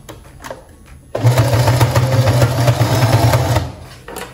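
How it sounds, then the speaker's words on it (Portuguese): A sewing machine stitches through thick ruffled fabric in one loud, close, continuous run of about two and a half seconds, its fast rhythmic motor hum laboring under the heavy layers, with quiet handling sounds before and after. "eu vou ajudando a máquina porque ela fica muito pesada para a máquina, a costura"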